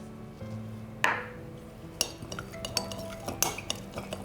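Garlic is mixed into a fattoush salad in a bowl, with soft clinks of a utensil against the bowl and light scraping stirs, a few distinct taps spaced out over a quiet background.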